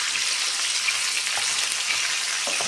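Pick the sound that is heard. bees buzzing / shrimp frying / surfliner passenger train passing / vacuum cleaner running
shrimp frying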